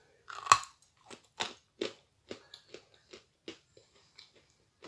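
Meringues crunched and chewed close to the mic, a sharp bite followed by a steady run of about a dozen crisp, evenly spaced crunches, alone with no talking.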